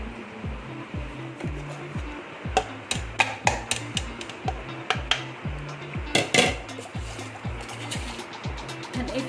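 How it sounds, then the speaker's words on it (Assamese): Sugar is spooned into cooled hot milk for a mango milkshake: a steel spoon clinks and scrapes against the container in a run of bright, close taps, over a steady low hum. "এইটো চামুচেৰে মই 2 চামুচ চেনি দি দিছো, 3 চামুচে দি দিলো"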